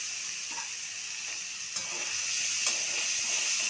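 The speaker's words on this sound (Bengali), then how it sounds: "একদম হাই ফ্লেমে ভাজলাম যাতে গলে না যায়" Chopped capsicum and steamed vegetables stir-frying in a pan on high flame give a steady, hissing sizzle with faint clinks of stirring, quiet and close.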